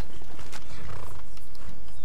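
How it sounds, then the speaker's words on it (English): A horse in the Skyrim video game, heard as a short burst of animal and hoof sounds over about two seconds, with a steady low background rumble and no talking. "I gotta steal this horse."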